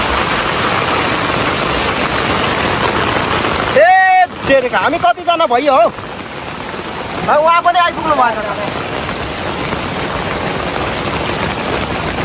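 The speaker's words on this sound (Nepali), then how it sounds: "अत्यन्त ठुलो मुसलधारे पानी परेको छ है।" Heavy torrential rain pours down steadily at the upper source of the Sardu river, a loud continuous roar of water, with two people's voices briefly talking over it partway through.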